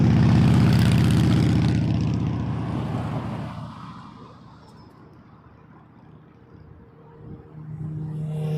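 A Porter airliner lands on runway 24 left at Toronto Pearson, its loud broadband engine and airframe roar dominating at first, fading over several seconds, then swelling again near the end.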